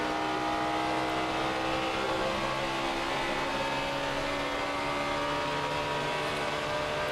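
Stock cars roar through a corner at the 2008 NASCAR Camping World RV 400, a dense, steady wash of engine noise with overlapping tones as the pack passes, loud and continuous.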